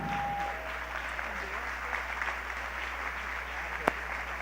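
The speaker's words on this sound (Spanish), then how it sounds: "Dale un fuerte aplauso al Señor" A church congregation applauds steadily and densely at an investiture service, the wash of many hands holding at an even level throughout, with one sharp louder clap standing out near the end.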